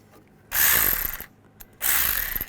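A ratchet wrench tightening bolts on a belt tensioner of a 1998-2010 Volkswagen Beetle, two close bursts of rapid clicking separated by a short pause.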